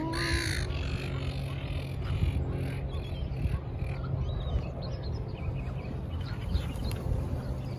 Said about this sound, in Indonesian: burungnya pada terbang